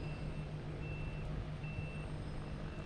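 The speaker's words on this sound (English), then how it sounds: "We got someone backing up around here somewhere." Steady, evenly spaced reversing beeps from a truck at Boston Logan Airport ring out over a constant low rumble of distant traffic and engines.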